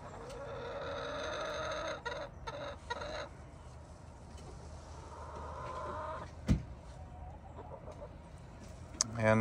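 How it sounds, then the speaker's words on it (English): Chickens cluck and squawk steadily in an outdoor run, with a rooster among them and a sharp louder squawk partway through. "There is some initial squawking, but it seems to have died down a bit."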